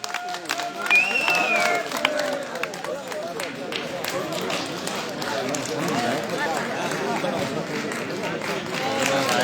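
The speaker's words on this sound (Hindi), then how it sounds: "सभी लोग जोरदार तालियां बजाकर उनका अभिनंदन करें।" A large crowd claps at an election rally in Arki addressed by Defence Minister Rajnath Singh, a dense, steady wash of applause lasting the whole stretch, with voices mixed in.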